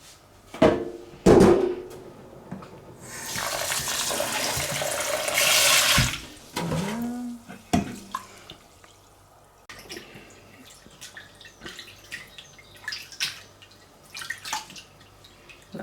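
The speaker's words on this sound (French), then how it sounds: "le riz, il va falloir le laver 4 à 5 fois" Rice being washed by hand in water for sushi, with a stretch of running tap water, swishing and dripping, and clinks of a bowl or utensil; moderately close, no talking.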